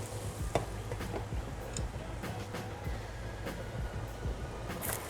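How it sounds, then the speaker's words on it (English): Vegan protein bowl simmering in a pan on a stovetop, a faint steady bubbling sizzle with occasional soft clicks and scrapes, close and quiet with no voices. "I'm gonna turn it up a little bit and let it simmer."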